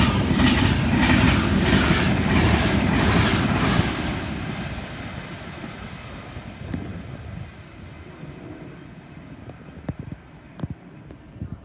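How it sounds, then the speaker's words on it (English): A Class 390 Pendolino electric train roars through Watford Junction station at speed, a loud rushing rumble with rhythmic wheel clatter that fades over several seconds, leaving scattered clicks and distant rail noise. "Passing through now is another class 390 Pendolino on the service to London Euston"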